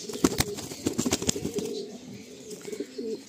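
A large Kaldom Giribaj pigeon being held in the hand gives soft, close cooing, with a few sharp rustles and wing flutters near the start and no talking.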